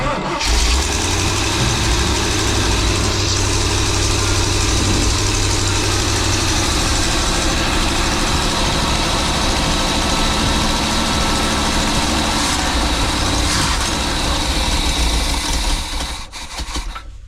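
The engine of a 23-foot Birchaven boat idles with a loud, steady, rough low rumble for most of the stretch, then cuts off near the end.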